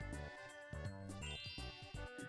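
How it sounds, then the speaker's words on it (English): A bright, tinkling Bowser phone jingle from Mario Party 3 plays as a bouncy, rhythmic chime melody with repeated ding-like notes, loud and continuous with no talk. "This is exactly why I got a Bowser phone"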